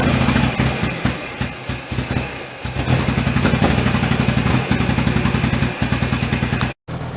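A small engine fitted with an SU HS2 carburetor runs roughly, its loud, close, clattering idle pulsing unevenly throughout, with a brief dropout near the end.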